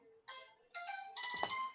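A mobile phone ringtone chimes in three bursts of bright melodic tones, each louder than the last, going off during a community college board of trustees meeting with a brief low bump near the end.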